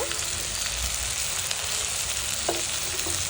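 Tangra fish go into bitter gourd frying in a pan, giving a loud, continuous close-up sizzle of hot oil with faint clinks of stirring underneath.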